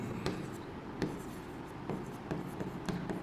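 Marker or chalk strokes on a classroom board as a sentence is written, with scattered sharp taps and scratchy strokes over steady room noise, close and moderately quiet, with no talking.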